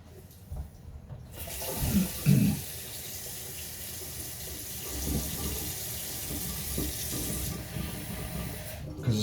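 Water from a tap added to a pot of thick potato soup, a steady rushing flow that runs for several seconds at close range, with a few knocks and clatters near the start.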